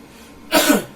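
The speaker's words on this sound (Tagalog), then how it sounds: "Ubo ka ulit. Ubo ka ulit. Okay, ubo." A person with sciatica gives a single short cough during a treatment session, one close, sharp burst after a brief quiet pause.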